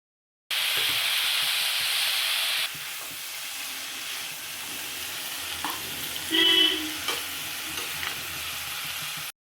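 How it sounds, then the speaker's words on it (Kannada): Tomato masala with roasted gram and coconut frying in a pan, a steady loud sizzle at first that settles into softer hissing, with a brief stir and scrape midway. "ಟೊಮೊಟೊ ಎಲ್ಲ ಫ್ರೈ ಆಗ್ಬೇಕು ಚೆನ್ನಾಗಿದೆ"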